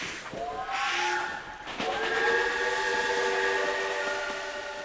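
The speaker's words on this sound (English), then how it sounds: "the Khyber Safari train runs through the rugged mountains of the Khyber Pass" Khyber Safari train running through the rugged Khyber Pass mountains, its horn sounding in sustained tonal blasts over the rolling rumble of the train, fairly loud and steady.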